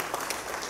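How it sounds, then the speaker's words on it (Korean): Brief, steady applause from a crowd in a church meeting hall during a men's evangelical association general assembly in Seoul, a fairly distant wash of clapping heard alone. "자리에서 일어나서 인사할 때 큰 박수 부탁드리겠습니다."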